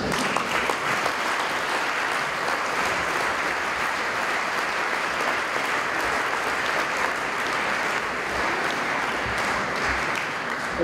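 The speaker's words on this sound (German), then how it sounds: "Ich glaube, wir zwei Männer haben einen grossen Applaus für ihn." Sustained applause from an audience at an honours ceremony for young Swiss wrestlers in Hergiswil, a dense steady clapping that fills the whole stretch at constant loudness with no talk over it.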